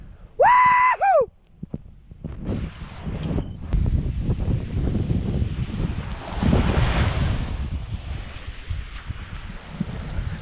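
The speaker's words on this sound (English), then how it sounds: "We have our own beach all to ourselves." Ocean surf washes steadily onto a secluded beach at Cape Sebastian, a broad continuous roar of breaking waves with wind buffeting the microphone, preceded by a brief whoop near the start.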